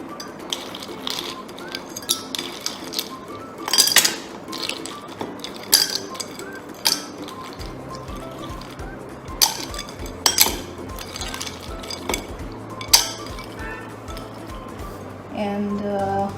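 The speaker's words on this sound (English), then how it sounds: "Now I'm going to add some ice cubes." Ice cubes being dropped into a glass for a mango tapioca drink, making scattered sharp clinks and rattles close by, some louder knocks among them, with a low hum joining partway through.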